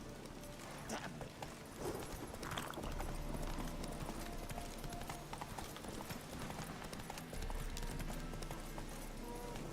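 Roach, a horse in The Witcher 3, gallops in a steady rhythmic clip-clop of hooves, close and continuous, with game music and ambience underneath.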